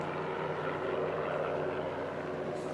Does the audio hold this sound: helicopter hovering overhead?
yes